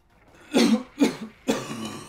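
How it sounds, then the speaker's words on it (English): Three harsh coughs in a row, close and fairly loud, each a short burst with a rough tail, with a brief pause between them and no talk. "This fucking cough."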